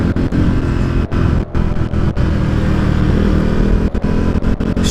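KTM 390 Duke motorcycle engine running loud and close while gears are shifted, a steady mid-pitched drone broken by several brief dips at each shift.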